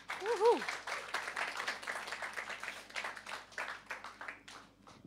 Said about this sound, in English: Give her, please, a round of applause.